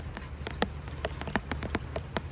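Rain falling outdoors onto a workspace where an old Harley motorcycle sits under cover, with steady close patter and scattered sharp drips striking hard surfaces over a low background hum, no voices.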